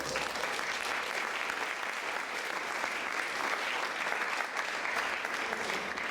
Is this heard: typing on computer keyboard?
no